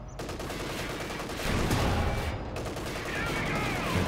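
Tank cannon fire and battle gunfire in Company of Heroes 2, with a Panzer IV on the field, a dense continuous barrage of shots and explosions staying loud throughout and swelling midway.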